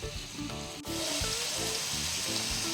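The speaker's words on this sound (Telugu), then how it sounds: "ఇందాక అరగంట నానబెట్టిన చికెన్ ఉంది కదండి అందులో ఇప్పుడు వేసుకున్నాను" Marinated chicken frying in a pan for a masala curry, with a constant loud sizzle after a brief thud as it settles, heard up close with no voices.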